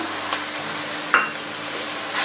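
Chili powder masala for a river crab gravy sautés in a pan with a steady close sizzle, punctuated by a few stirring scrapes and one sharp clink of a utensil against the pan.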